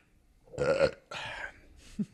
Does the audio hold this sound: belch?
yes